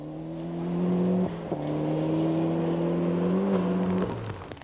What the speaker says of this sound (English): At number 1, the championship leaders George Robinson and George Miller in their Garth McCartney prepared Escort Cosworth.